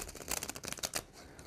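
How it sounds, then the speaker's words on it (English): A deck of playing cards being shuffled, a quick close riffle of rapid flutters lasting about a second, fairly quiet and with no talk. "But after you shuffle the deck,"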